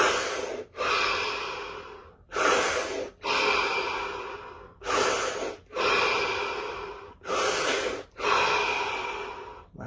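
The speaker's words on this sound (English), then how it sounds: "5 deep breaths" Deep, slow breaths drawn in and pushed out, loud and close to the ear, with each long airy breath separated by brief pauses, and no talking.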